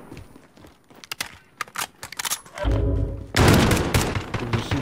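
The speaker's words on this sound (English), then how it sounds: "He's just shooting somebody right here." Semi-automatic weapon fire in the Call of Duty Warzone video game, a run of sharp separate shots early on, then a dense louder burst of gunfire and explosive noise close up, with no talking.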